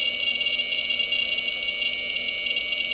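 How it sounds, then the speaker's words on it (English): A loud, steady high-pitched electronic buzzer on an ultracapacitor-based UPS with a fault sounds continuously without a break, alone and unchanging throughout. "We got the buzzer going off"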